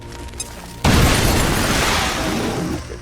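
A frag grenade explodes in the video game XCOM: Chimera Squad: a faint mechanical click, then a sudden loud blast that rumbles and crackles for about two seconds before tapering off.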